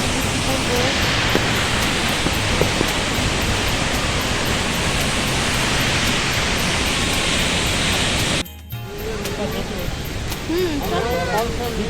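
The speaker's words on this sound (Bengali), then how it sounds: "এতটাই জলের আওয়াজ আর এতটাই জল আসছে" Heavy rushing water from Changey waterfall roars loudly and steadily, then cuts off abruptly, after which people speak over a quieter wash of water.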